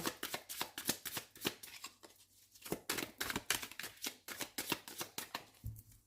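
A deck of tarot cards is riffled and shuffled by hand in quick, close, rhythmic bursts of flapping and snapping, with brief pauses between passes.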